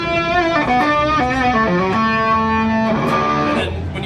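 Electric guitar through an Earthquaker Devices octave fuzz pedal, playing a loud, sustained run of distorted, harmonically rich notes with an upper-octave shimmer, alone and steady for about four seconds.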